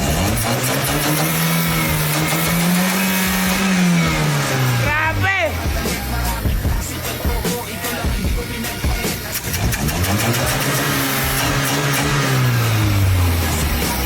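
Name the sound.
stock car engine revving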